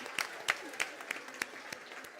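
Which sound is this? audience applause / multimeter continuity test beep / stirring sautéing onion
audience applause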